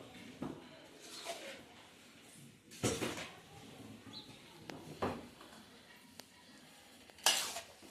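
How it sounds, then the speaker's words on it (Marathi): A spoon mixes a koshimbir salad in a bowl, making faint, scattered clinks and soft scraping stirs at an uneven pace, quiet and close. "या बाकुडीच्या मदतीने सगळे व्यवस्थित हालून घ्यायचे"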